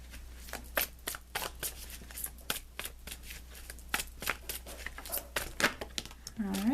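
Tarot cards shuffled by hand, a quick run of crisp riffling slaps and paper flutters in an irregular rhythm, close up and moderately loud against a low steady hum.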